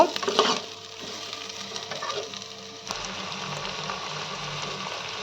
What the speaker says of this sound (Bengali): একটা বড় টমেটো কুচি করে রাখা দিয়ে দিলাম। টমেটোগুলো ভালোভাবে মিশিয়ে নেব।